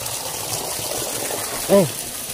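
Continuous broad rush of gushing water from the Cabag and Cave falls, steady and fairly loud, with a brief voice rising over it near the end.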